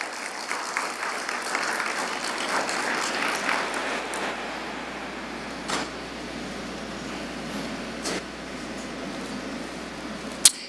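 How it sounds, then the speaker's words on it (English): Audience applause at a university leadership and service awards ceremony, a steady crowd of clapping held at moderate level for about ten seconds, with a few sharper isolated claps and a knock near the end. "Give them a round of applause."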